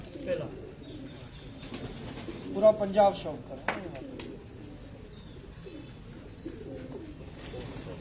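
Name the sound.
pigeons cooing on a rooftop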